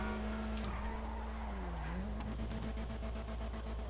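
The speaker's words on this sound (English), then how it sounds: "Oh, the sound of that car." A car engine drones steadily while its tone dips and rises as the vehicle slides, with faint tire squeal and electronic game-like sound, no talking.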